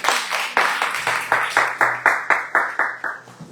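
A church congregation claps in praise in a steady, even rhythm of about a dozen loud, close group claps.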